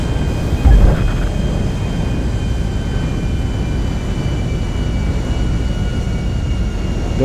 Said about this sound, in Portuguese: Desce, desce do avião.